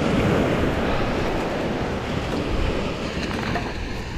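Ocean waves washing onto a beach after Hurricane Ian, a steady roaring surf mixed with wind buffeting the microphone, loud and continuous with no talk.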